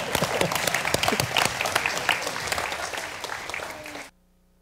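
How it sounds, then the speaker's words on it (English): An audience at an evening lecture on Indigenous heritage and decolonizing research breaks into sustained, dense applause that carries on steadily, then cuts off abruptly. "You can clap."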